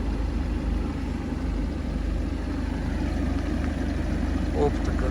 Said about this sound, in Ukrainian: Маховика не чути, двигун робить рівно.